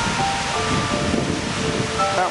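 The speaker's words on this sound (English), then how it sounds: "This is a little runoff waterfall from Skypond." A small runoff waterfall from Skypond on an icy alpine trail above Lake of Glass, heard as a steady broadband rush of falling water mixed with wind buffeting the microphone, constant and fairly loud throughout.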